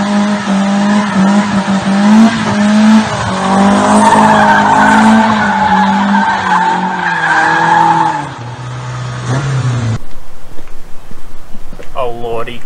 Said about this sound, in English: Doing brake stands rocks.